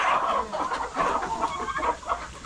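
A Darag rooster, a native Filipino chicken, clucks in a quick series of close, clear throaty calls with rustling farmyard noise behind.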